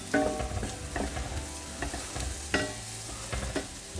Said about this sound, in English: I am going to add half a teaspoon of paprika. Saute it